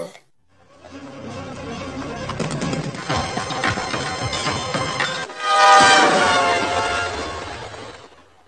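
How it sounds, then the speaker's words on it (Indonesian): A train rumbles past with rhythmic clattering, then a loud, sustained horn blares near the end, overlapping the rolling noise. "sesaat sebelum ia tertabrak kereta api"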